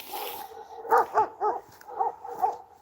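Several dogs barking outdoors in a burst of about six sharp barks over three seconds, moderately close and loud, with no voices over them.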